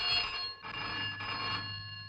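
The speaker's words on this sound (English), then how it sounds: "Phone, Dr. Beaker." An old-fashioned telephone rings in a bright, steady electric bell tone, sounding in two long bursts separated by a brief break, fairly close and alone without any talk.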